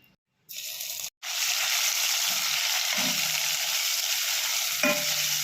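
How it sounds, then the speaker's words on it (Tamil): Coarsely ground sweet corn sautés in ghee for a payasam, a steady close sizzle that starts after a brief gap and runs on with a few soft stirring scrapes. "இதை வந்து நெய்யில் பச்சை வாசனை போகிற வரைக்கும் வதக்கிக்கலாம்"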